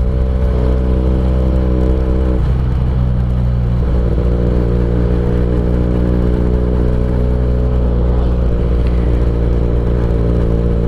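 A Benelli TNT 249 S motorcycle engine runs steadily on a test ride, a loud, continuous mid-pitched drone with firm harmonic tones that shift slightly as the revs change, close and alone with no talking.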